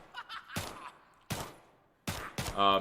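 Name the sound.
gunshots from a gold Glock in video game The Day Before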